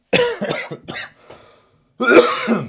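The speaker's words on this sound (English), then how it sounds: "I feel like I've been coughing a lot more in the last couple of days" Several harsh coughs, close and loud: a burst of coughing, a short pause with a fainter cough, then another strong round of coughs.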